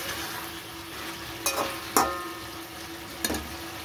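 Cauliflower cooks off its released water in an open pan with a soft, steady sizzle. Three sharp clinks of stirring stand out above the low frying hiss.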